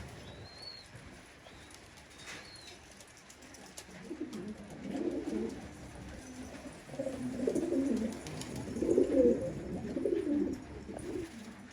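Pigeons coo on a rooftop loft, including a yellow pair, soft throaty calls rising in repeated bursts over a quiet outdoor background, louder and more frequent in the second half.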